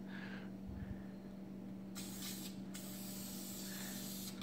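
An aerosol spray can hisses in short bursts and one longer sustained pass while a coat of paint goes onto an LS2 engine, close but fairly quiet over a steady low hum.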